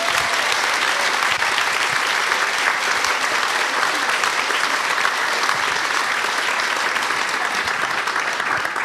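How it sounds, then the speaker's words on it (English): A sustained round of applause from an audience at an evening author event, a dense, even wash of many hands clapping steadily for the whole stretch at moderate level, with no voices breaking through. "One more round of applause for Chris and Kate."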